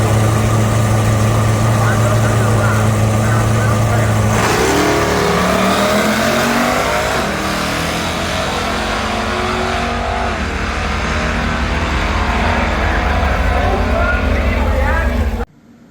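A drag racing car making its first bracket-race run off the trailer at a drag strip, engine roaring loud and steady at full throttle close by, pitch climbing through gear changes before cutting off abruptly.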